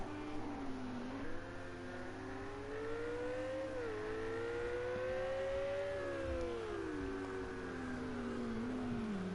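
GT3 race car in a sim racing game at Zolder, engine note sweeping up and down through gear changes on a flying lap, steady and fairly close, with no voices over it.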